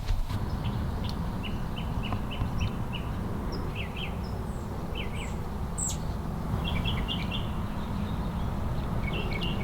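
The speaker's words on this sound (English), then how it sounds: "We got the birds chirping" Outdoors, birds give short, repeated chirps and brief trills scattered across several seconds, fairly faint over a steady broadband background hiss, with no voices.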